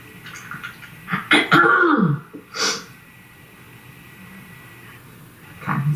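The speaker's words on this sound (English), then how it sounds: "Let's get rid of this cough." A person coughs a few times in a rough, close-up burst partway through, followed by a throat-clearing snort, with quiet room tone around it.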